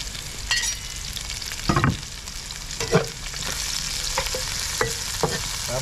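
Onions sizzle steadily in a frying pan while a utensil stirs them, with scraping strokes at irregular intervals over a constant hiss of frying.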